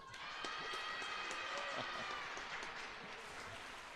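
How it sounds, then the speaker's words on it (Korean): Steady crowd applause at a Korean commemorative ceremony in Miryang, continuous and fairly distant, with a faint murmur of voices underneath. "박수 한번 치실까요?"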